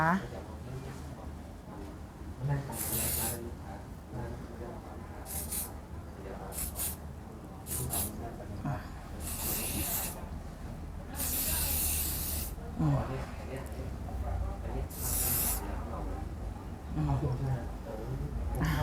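Hairspray is sprayed in short bursts onto hair during a salon blow-dry styling for lifted roots and curled ends, with repeated sharp hisses spaced irregularly while someone talks steadily throughout.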